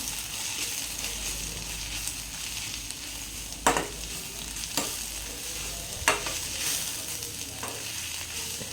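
A spoon stirs chili and turmeric powder into a frying egg curry, with a steady bright sizzle and a few sharp scrapes against the pan at irregular intervals, close up and without talk.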